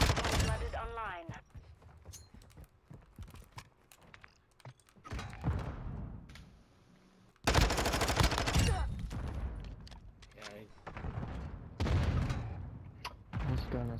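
Gunfire in the video game Modern Warfare 2 during a ranked match at Breenbergh Hotel, rapid bursts and single shots scattered throughout, with a heavy volley in the second half, mixed with player talk.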